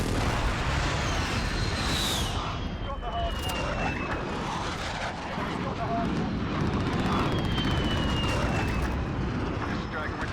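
Continuous loud engine roar and rumbling from a VTOL aircraft in the Call of Duty Modern Warfare game, with a faint whine sweeping past and muffled booms mixed into the dense battlefield noise; a voice talks over it.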